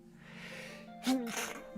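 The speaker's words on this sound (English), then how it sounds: "that was one of those sneezes I felt coming from a mile away" A single close sneeze bursts out about a second in, a sharp broadband blast with a short vocal tail, preceded by a faint indoor hum and some breathy sounds.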